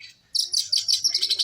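Oriental magpie-robin (kacer) chirping in rapid bright bursts, a string of sharp tweets and trills close by with a faint low hum underneath.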